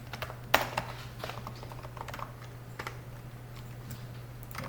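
Keys on a computer keyboard clatter in scattered, uneven bursts of typing, close and fairly quiet over a steady low electrical hum, with no voices.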